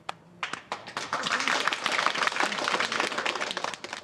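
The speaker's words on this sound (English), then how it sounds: "Round of applause for me." A small audience breaks into applause at a university construction program in China, a couple of early claps followed by steady, dense clapping that holds for several seconds at close range.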